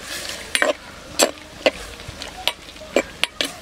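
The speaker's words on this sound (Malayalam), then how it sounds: "അപ്പോൾ നമ്മളത് ചേർത്ത് ഒന്ന് ഇളക്കി" Pineapple kichadi being stirred in a pan, with sharp spoon knocks and scrapes against the metal repeating roughly every half second over a low sizzle, close up and without talk.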